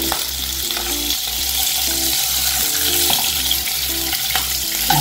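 Sausage fries in its own fat with a loud, dense, continuous sizzle, while a low rhythmic hum pulses steadily underneath and an occasional utensil clink cuts through.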